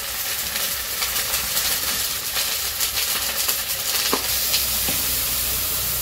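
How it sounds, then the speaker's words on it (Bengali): Onion, green chili, ginger-garlic paste, turmeric, chili and salt sautéed in a pan with a splash of water give a steady, fairly loud sizzling hiss, with faint scraping stirs now and then. "একটু পানি দিয়ে ভালো করে কষিয়ে নিতেছে মশলাটা।"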